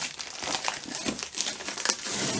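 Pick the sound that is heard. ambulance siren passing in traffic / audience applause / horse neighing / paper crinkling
paper crinkling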